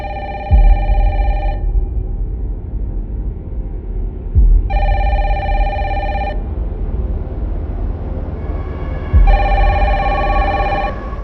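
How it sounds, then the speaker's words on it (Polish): A telephone rings in three separate bursts in the Resident Evil Requiem game trailer, set inside a hotel interior in Renwood, each ring a bright bell trill over a low, steady ambient rumble. "w tle słyszymy nieustannie dzwoniący telefon"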